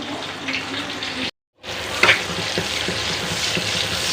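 Onion fries in a pan with a continuous close hiss and crackle, broken by a brief silent gap, with a sharp clink and a few light knocks as it is stirred.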